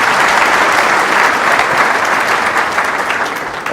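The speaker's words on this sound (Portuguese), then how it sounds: "Uma salva de palmas" A lecture audience applauds to welcome a speaker, with dense, sustained clapping that stays loud throughout and eases slightly near the end.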